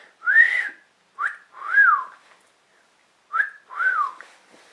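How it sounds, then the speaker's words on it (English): Three short, bright whistled phrases, each a quick rising-falling note, sounding close and clear with quiet pauses between them. "Yeah, I can whistle,"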